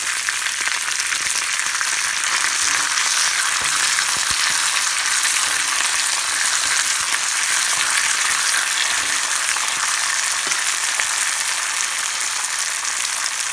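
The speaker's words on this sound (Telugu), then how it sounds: "you should add all the tadka items and green chilli, split green chilli and fresh curry leaves into the tadka kadai" Split green chillies and fresh curry leaves sizzle in hot oil in a kadai for a tadka, a steady, dense crackling hiss that holds close and fairly loud throughout.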